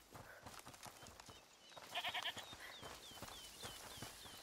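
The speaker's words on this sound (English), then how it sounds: "Is that the goat he talked about?" A goat bleats in a short quavering burst in A Plague Tale: Requiem, heard over soft ambient game noise and scattered birdlike chirps.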